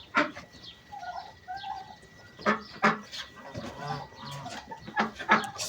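Chickens cluck nearby in scattered short calls and squawks, with irregular pulses and some rustling and movement between them.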